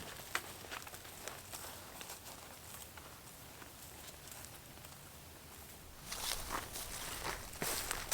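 A hunter creeps on foot through brush at night while stalking pigs, soft close footsteps crunching and pattering irregularly, with a louder burst of rustling steps toward the end.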